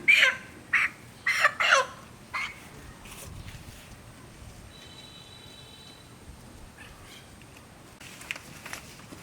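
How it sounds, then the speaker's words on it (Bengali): A white farm chicken bought from the market clucks loudly up close in a quick run of squawks at the start, followed by quieter rustling and faint bird sounds in a calm setting. "এখন মুরগিটা জবাই করে নিব।"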